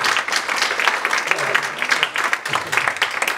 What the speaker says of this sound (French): Je vous demande aussi d'applaudir Omar Mokhtar Chahlen qui est venu quand même.